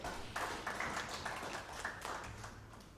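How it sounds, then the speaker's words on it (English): Audience at a report launch event in Uganda clapping, a scattered round of hand claps from a modest crowd, fairly quiet and lasting a few seconds. "Can you please give him a round of applause?"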